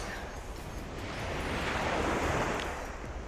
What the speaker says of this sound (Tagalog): Ito, naririnig nyo ba yung ano ng dagat?